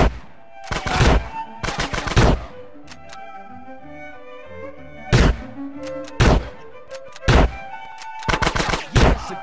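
Gunfire in GTA San Andreas comes in loud, close bursts of rapid shots, separated by quieter stretches of low game ambience and music.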